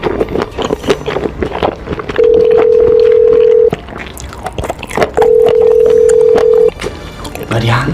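A telephone plays two long, steady ringback tones while a call is placed. Each tone lasts about a second and a half, and people talk loudly over and between them in a busy room.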